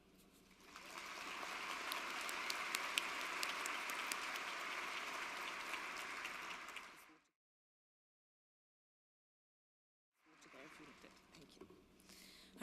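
An audience at a conference plenary session applauds to welcome a speaker, with sustained clapping lasting about six seconds that stops abruptly, then a few seconds of silence before faint room sound returns.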